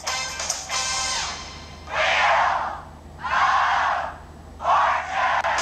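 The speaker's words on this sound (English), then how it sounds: "Looks like a nice crowd tonight, doesn't it?" In the Wheel of Fortune video game for Nintendo Switch, a studio audience crowd roars and cheers in three loud surging bursts separated by brief lulls.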